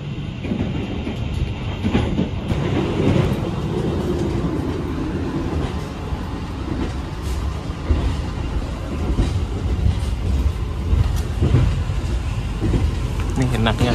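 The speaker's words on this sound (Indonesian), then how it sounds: "papasan entah kereta apa ini" A train rushes past in the opposite direction, heard from aboard the KA Taksaka express out of Yogyakarta station: a loud, sustained roar and rumble with clattering wheels that swells and fades over about fourteen seconds.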